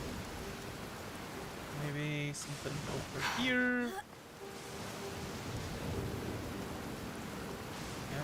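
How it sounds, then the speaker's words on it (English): Rain and rolling thunder in the video game Genshin Impact, a steady hiss of rainfall with low rumbles running under a person speaking briefly. "This thunder is loud."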